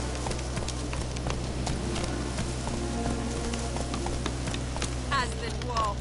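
Horse hooves in a PS4 video game: a steady, continuous clip-clop of galloping over a dense, noisy background, at an even volume throughout.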